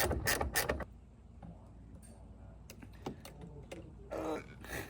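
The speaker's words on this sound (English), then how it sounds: "Ratchet wrenches." A ratchet wrench clicks while working on hatch strut hardware of a Nissan 240SX, giving close bursts of rapid ratcheting and mechanical rattles between quieter pauses with faint handling noise.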